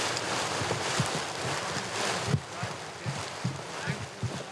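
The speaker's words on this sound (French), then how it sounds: "des rafales de vent balayent le site" Gusty wind sweeps over an Italian lake, producing a steady broadband rush with buffeting thumps against the microphone that rise and fall throughout.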